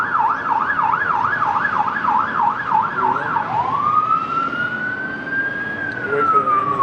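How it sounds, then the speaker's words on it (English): Ambulance siren outside, a rapid warbling wail that switches to a long rising and falling tone, loud and steady for several seconds as it passes nearby. "Wait for the ambulance to go away."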